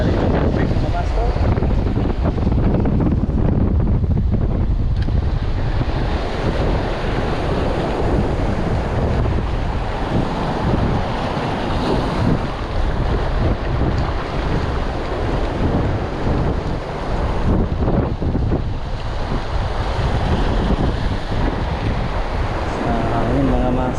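Strong wind and crashing waves at sea from a small boat, a constant roaring rush with heavy wind buffeting on the microphone throughout.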